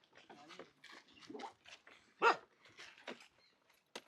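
A German Shepherd dog gives a series of short barks and whimpering yelps, close and fairly loud, spaced irregularly with brief quiet gaps between them.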